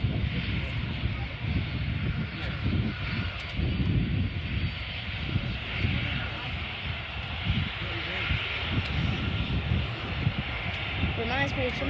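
A Kuwait Air Force C-17 Globemaster landing at Manchester Airport, heard as a loud, steady roar of engines that fills the whole stretch, with a constant hiss over it.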